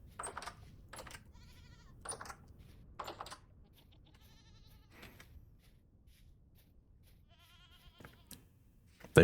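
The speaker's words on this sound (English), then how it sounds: "That means that goat I heard over here is a real goat" A goat bleats several times in the survival crafting game Vintage Story, short repeated calls spaced across the stretch with quiet farm ambience between them and no talking.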